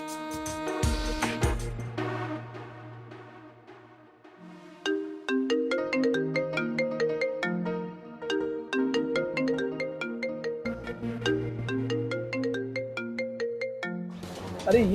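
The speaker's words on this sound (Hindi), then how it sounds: "अरे ये फोन तो मेरे जो शोरूम में एक लड़का है जो काम करता है, उसका फोन रह गया था।" A mobile phone ringtone plays a bright, repeating melodic tune, loud and steady for about fifteen seconds, with brief other sounds at the start and end.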